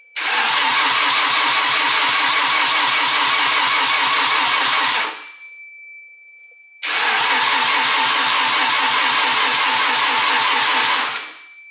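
A Mazda RX7 drift car engine roars loud and close in two bursts of about five seconds each, separated by a short quiet pause, as it cranks and catches without talking.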